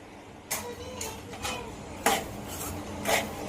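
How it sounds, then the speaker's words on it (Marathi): Fine semolina roasts dry in a pan over a low flame, stirred with a spoon that gives about five distinct metallic scrapes against the pan at irregular intervals over a quiet background; close, with no talking. "स्लो गॅसवरती भाजूया आपण व्यवस्थित"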